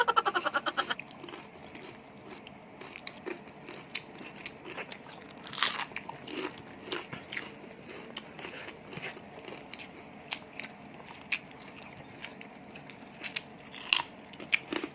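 Eggs eaten at a Filipino breakfast, with close crunchy bites and wet chewing that come in irregular bursts over a quiet background, a few louder crisp snaps standing out.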